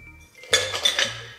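Cocktail strained into an ice-filled Moscow Mule mug, a spicy pomegranate mix, giving a short burst of clinking ice and metal with a few bright chinks close up, then fading quickly.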